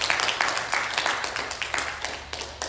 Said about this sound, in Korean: 이렇게 해주신 하나님께 영광의 큰 박수